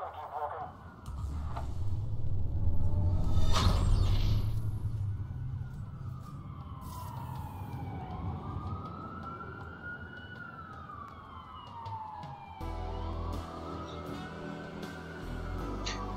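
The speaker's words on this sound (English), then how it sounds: "That's a lot of sirens for a blackout." Police sirens wail through a blacked-out city in the video game Watch Dogs, their rising and falling tones sweeping loud and steady over a low rumble, with several overlapping siren cycles.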